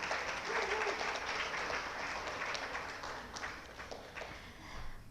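An audience applauds at an event honouring an artist and architect from Chennai, with steady, moderately distant clapping that holds throughout and fades slightly toward the end.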